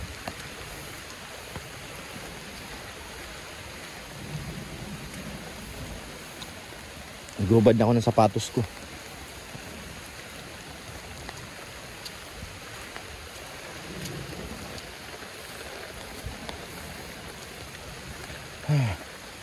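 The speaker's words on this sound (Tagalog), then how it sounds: "Grabe. Ulan talaga." Steady heavy rain on a farm hisses throughout, with a brief burst of nearby talk midway and another short voice near the end.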